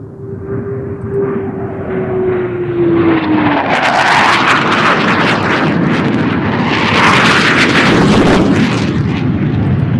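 Eurofighter Typhoon military jet flying low level, a loud roaring pass that swells from a thin whine into a broad, thundering blast, close and continuous, with a falling engine tone early on.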